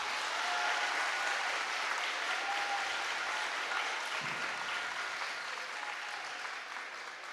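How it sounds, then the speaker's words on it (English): Steady, sustained applause fills a veterans ceremony as the crowd claps for honored veterans, a dense continuous wash that holds level and then begins to fade slightly near the end. "How about a big round of applause for them?"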